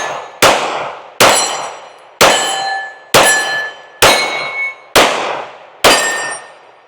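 Seven loud pistol shots from a Kimber R7 Mako carbon compact fired at a target outdoors, evenly spaced about a second apart, each a sharp crack with a ringing metallic tail.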